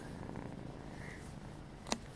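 A cat purring in bed close up, a steady soft rumble carrying on throughout with a brief small click near the end, no talk.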